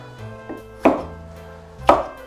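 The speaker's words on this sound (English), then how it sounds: "and then chop. Let's go with quarters." A knife chops potatoes into quarters on a cutting board in a kitchen, with a soft tap followed by two sharp, close thuds spaced about a second apart, and no talking.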